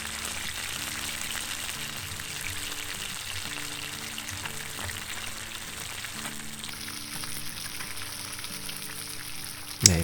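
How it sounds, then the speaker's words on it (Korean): Fish called 군평선이 (grunt) pan-frying in hot oil, a steady dense sizzle and crackle running unbroken from start to finish with no voices, ending in a brief sharp clatter. "한번 튀기는 소리 한번 들어보시죠"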